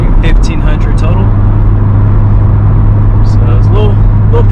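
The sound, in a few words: Corvette C6 LS engine with Borla Stinger exhaust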